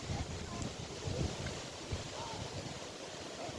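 Wind sweeps across an open garden park in Berlin, a constant low rumbling buffet against the microphone with faint background sound and no clear breaks.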